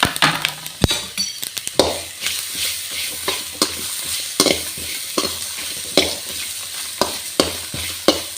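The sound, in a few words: stirring and frying chutney ingredients in a pan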